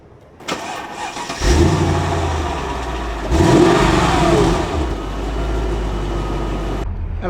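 A Mercedes S55 AMG engine cranks and fires up, then revs hard twice with a deep, loud exhaust roar before settling into a rumbling idle.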